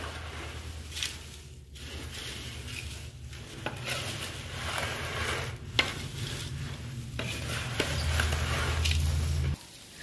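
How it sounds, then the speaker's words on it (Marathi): Spice mix is stirred into chivda in a pan, with continuous scraping and rustling of the snack, light metal clinks and a soft sizzle throughout, up close and alone. "आता ह्याला छानपणे मिक्स करून घेऊया।"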